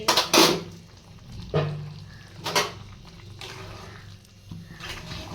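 Shukto fried with ghee in a pan, bursts of sizzling and spoon scraping in uneven strokes, a few louder clattering stirs standing out over a soft frying hiss, close by.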